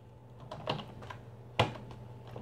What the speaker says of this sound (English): If I type some keywords here,